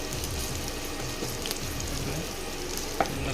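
Onions sizzle and fry in a pan on an induction cooker as the base for a prawn curry, a steady soft crackle with faint stirring and a small clink near the end.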